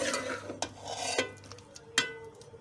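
Coriander powder and spices are mixed in a pan with a spoon, giving several soft scrapes and clinks, quiet and close, with a faint sizzle underneath.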